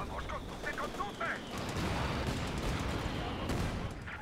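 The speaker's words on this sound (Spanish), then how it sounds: "Un morterazo se ha dicho." Mortar strike in Battlefield V with distant booms and crackling battle noise that roll on for several seconds at moderate volume, over a faint background of game voices.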